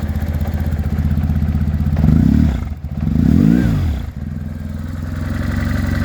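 A 1100cc BMW R1100S Boxer Cup boxer-twin motorcycle engine runs close and loud, idling with an even mechanical beat, then rising briefly in two short revs before settling back to idle.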